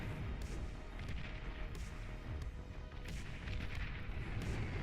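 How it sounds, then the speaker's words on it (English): Artillery fire in the real-time strategy game Beyond All Reason, a dense, continuous rumble of distant booms and impacts with repeated sharp bursts throughout, loud and steady with no pauses. "he's still taking so much damage from this artillery on this south side."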